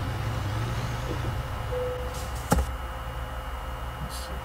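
A truck in the American Truck Simulator video game idles and maneuvers to back in, a steady low engine rumble with a sharp air-brake-like hiss midway and faint beeps, no voices.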